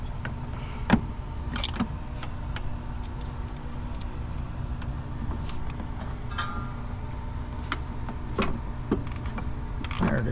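A wrench ratchets while a compressor is removed from a 2000 Chevrolet S10 Xtreme outdoors at dusk, giving scattered mechanical clicks and clanks over a steady low hum, with a sharper clunk near the start and at the end.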